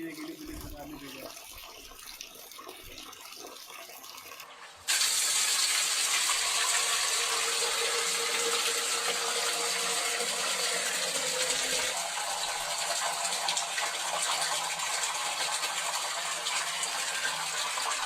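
Water gushes steadily from a Delhi Jal Board tap. A quieter stretch comes first, then the flow starts suddenly and stays loud and constant to the end.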